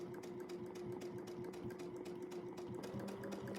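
A sewing machine runs steadily throughout during free-motion quilting, a close, even motor hum with a fast rhythmic needle chatter and no pauses.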